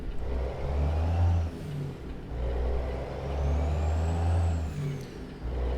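Truck engine with a Cummins N14P in American Truck Simulator rumbles loudly and steadily, with a brief hiss of air brake release near the end.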